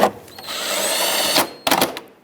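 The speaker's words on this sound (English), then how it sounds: "let's put the T30 Torx bolt back in." A power drill driving a T30 Torx bolt back in while replacing the alternator on a 2010-2017 Chevrolet Equinox, one whirring run of just over a second followed by a few short bursts, close up.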